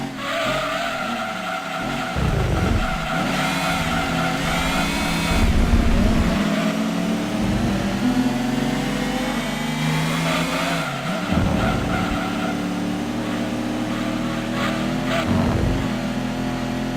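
Race car engine in Gran Turismo 2 revving hard through gear changes, with repeated tire skids and squeals, loud and continuous throughout with no talking.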